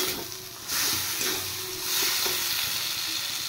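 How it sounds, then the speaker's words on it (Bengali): Tomatoes fry in a pan with a steady, close sizzle, and spice and oil hiss under intermittent stirring scrapes throughout, with no talk. "এবার একটু ফ্রাই করব। এবার এর সাথে দেব 2টো টমেটো।"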